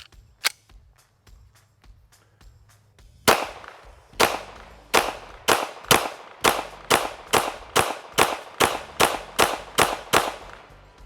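Walther PDP Match 5-inch pistol fires a rapid string of about fourteen loud, sharp gunshots at a steady pace, preceded by faint handling clicks and a quiet pause.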